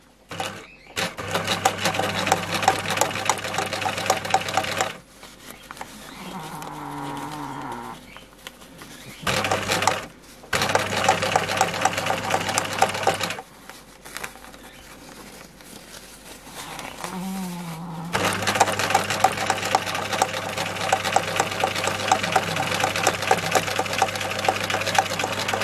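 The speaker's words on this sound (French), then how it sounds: "Ici, je vais rapprocher ma machine à coudre." A sewing machine topstitches along a fabric face mask in several long, steady buzzing runs broken by short pauses, close and loud.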